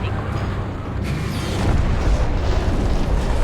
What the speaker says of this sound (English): There's the rounds that gun is shooting.